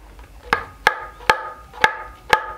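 Five dry, sharp "tik" taps on the rim of a kendang drum come at a steady pace, each a short bright click with a faint ring.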